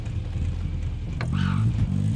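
Vehicle engine in Call of Duty: Modern Warfare Warzone, a low, steady rumble that swells slightly as it revs, with a brief in-game sound effect partway through.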